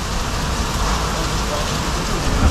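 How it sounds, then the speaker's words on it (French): Hail pelts down on a car parked at a petrol station during a violent supercell storm, a dense, continuous rattling roar with steady intensity and a few heavier impacts near the end. "La grêle s'abat avec une intensité impressionnante."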